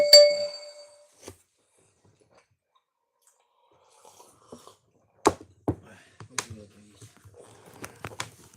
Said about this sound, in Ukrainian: Мой телефон, блин, звучит.